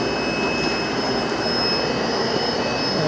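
A radon mitigation exhaust fan at a Charlottesville, Virginia home blows with a steady, loud, broadband rushing roar and a constant high whine, unbroken and without talk.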